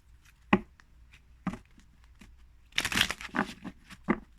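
A Sibylla oracle card deck being shuffled, with crisp papery riffles and slaps arriving in separate bursts, including a denser flurry of card noise near the end, close and fairly clear.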